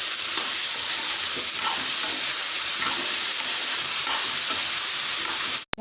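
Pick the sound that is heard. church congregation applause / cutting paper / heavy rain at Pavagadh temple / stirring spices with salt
stirring spices with salt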